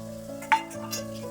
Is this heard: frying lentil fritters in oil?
yes